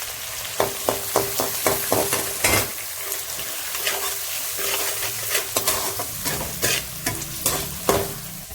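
Two finely chopped onions fry on a pan over high gas while being stirred for semiya upma, a steady close sizzle broken by repeated sharp spoon scrapes and clicks against the pan.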